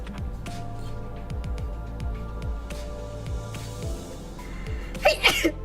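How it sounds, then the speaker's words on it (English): A single sharp sneeze bursts out near the end, close and loud against a quiet indoor background after a pause. "I need to sneeze."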